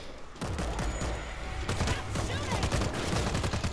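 Rapid bursts of gunfire from the World War Z video game blast at zombies, a dense run of loud shots with short pauses between volleys.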